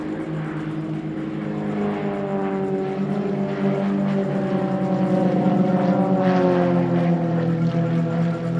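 An Extra 330LX aerobatic propeller aircraft performs a display at an air show, its engine drone rising and falling with shifting pitch as it rolls, loud and continuous.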